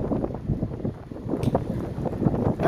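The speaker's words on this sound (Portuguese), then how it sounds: "O vento tá contra." Strong wind buffets the microphone outdoors, making gusty, fluttering low rumbles that rise and fall continuously, close and loud, with no talk.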